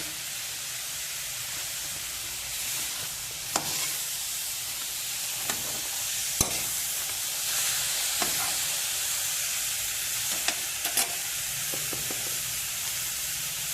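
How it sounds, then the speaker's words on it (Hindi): Milk heats in a pan for carrot custard, a soft steady hiss and gentle bubbling with a few faint clinks of a spoon against the pan, and no talking. "ये दूध पक रहा है।"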